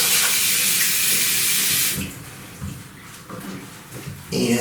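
A bathroom sink tap runs loudly while hands are washed beneath it, a steady broadband rush of water that cuts off partway, leaving quieter splashes and drips before the flow briefly swells again.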